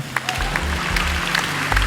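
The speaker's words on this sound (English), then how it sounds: "A couple golf claps." A few scattered golf claps from a small group in a podcast studio, light separate claps over a low hum, brief and moderately close.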